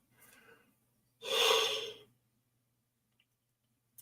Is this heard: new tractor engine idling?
no